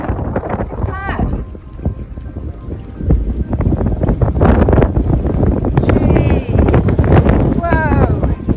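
Strong, gusting wind buffets the microphone aboard a narrowboat on the River Nene, breasted up and towing another boat against wind and current, with rushing water beneath and people talking over the blustery roar.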